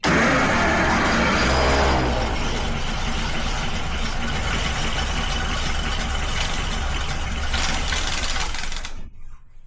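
A century-old moonshiner's car engine, parked for decades, runs loud and rough, starting with a brief higher surge, then a steady uneven idle that never picks up speed before it suddenly cuts out near the end.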